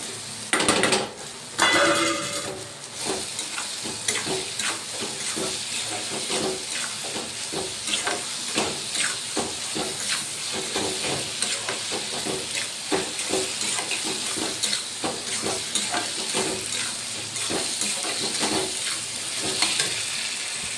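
Paneer bhurji fries in a pan, a constant sizzle broken by repeated scraping and clinking as a utensil stirs it, with busier clatter at the start and steady stirring after.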